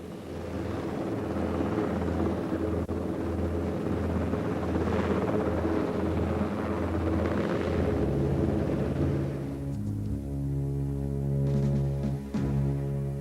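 A large helicopter from the early 1950s military era drones with a loud, steady throbbing rotor and engine hum, and the pitch shifts toward the end.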